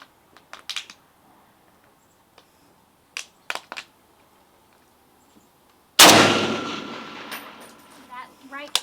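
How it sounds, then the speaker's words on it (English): Zastava M77 .308 AK-pattern rifle with a 5X micro prism optic fires one loud, sharp shot near the end, its report ringing out and decaying over several seconds, preceded by faint clicks and handling noises at a shooting range. "I'm going to hold dead on at 5. I'm shooting at 6 with the 500-yard reticle dead center."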